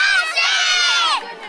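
A group of girls yells together as loudly as they can in one sustained, shrill, high-pitched shout that lasts more than a second before tapering off.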